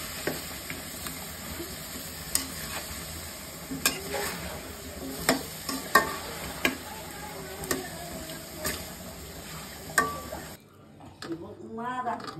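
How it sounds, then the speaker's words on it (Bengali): Sweet pumpkin fries in a pan in a village kitchen, with a low sizzle under repeated sharp clinks and scrapes of a utensil stirring, ending in a brief quieter moment. "সেখানে মিষ্টি কুমড়া ভাজি হচ্ছে আমার ছেলে মেয়ের জন্য"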